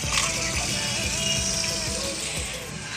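Water being filled runs in a steady, gushing flow, close and continuous for the few seconds heard.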